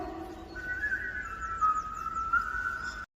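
A melody whistled as a clear, steady high tone with gentle pitch changes over a soft background, from a Snow White trailer.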